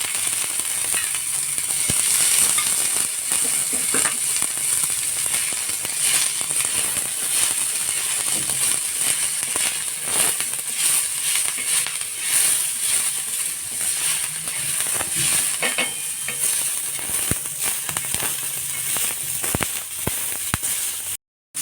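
Onions fry in oil in a pan with a steady close hiss broken by frequent sharp crackles and pops, and no talk over it.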